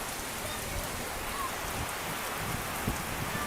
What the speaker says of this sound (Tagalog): But unfortunately nag-ulan. Nung bundak lang galit ang ulan.